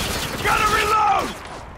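Gun reload in the shooter Spec Ops: The Line, a quick sequence of metallic clicks and mechanical sliding clacks lasting about a second, fairly close, with a faint voice briefly underneath.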